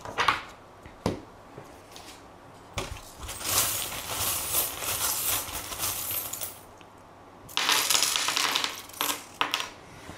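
Small metal divination charms are cast and scattered onto a surface during a tarot reading, giving bursts of bright jingling clatter that settle into lighter tinkles, with a second tumbling burst near the end, all close up and with no voices.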